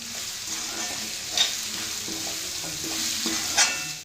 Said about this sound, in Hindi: अब पत्ता गोभी को भी हमें प्याज लहसुन के साथ में हल्का सा फ्राई करना है अच्छे से